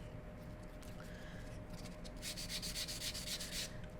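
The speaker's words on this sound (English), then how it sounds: "we can buff with the buffing side here." Dry rubbing strokes of a nail shaper buffer being worked across fingernails, soft and close, starting sparse and then settling into a quick, even back-and-forth rhythm in the second half.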